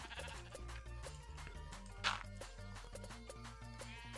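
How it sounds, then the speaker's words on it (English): A sheep in the video game Minecraft gives a single short bleat over steady background game music, fairly quiet overall. "And the sheep is getting in the way."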